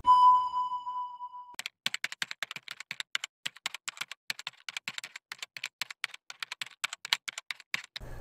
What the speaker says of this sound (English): So I will type that number in and I will say OK.